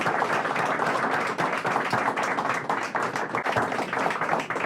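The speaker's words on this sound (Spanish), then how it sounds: "démosle un tremendo aplauso" An audience applauds after a presentation at a small digital talk session, a dense sustained clatter of many hands clapping close by, steady and unbroken for several seconds.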